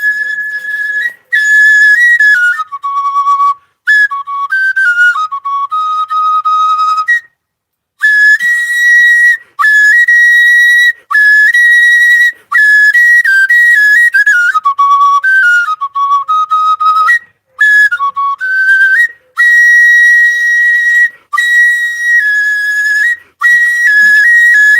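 An oja, the Igbo wooden flute, played solo in long piercing tonal phrases that step up and down between held notes, loud and close, separated by short breath pauses.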